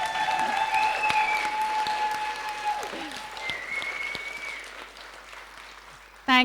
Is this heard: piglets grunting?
no